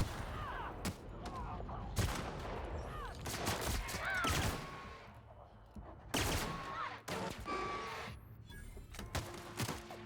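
Gunfire in The Outer Worlds, a video game, comes as rapid cracking bursts of shots mixed with game effects and whooshes, scattered across the stretch at moderate loudness.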